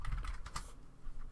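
Quick bursts of keystrokes on a computer keyboard while a brick pattern name is entered in material-design software, close and fairly quiet, with no voice.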